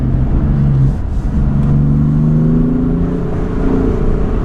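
A BMW M3 F80 accelerating on a tight mountain road, its engine note rising in a couple of climbing pulls over a steady road rumble, heard from inside the car.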